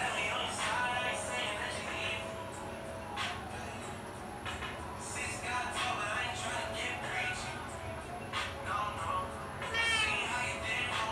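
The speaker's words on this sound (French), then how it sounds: "Mais il miaule tout le temps, il essaie de communiquer" A cat meows repeatedly and insistently at a house where dogs are kept, faint cries mixed in with a person talking and background household noise.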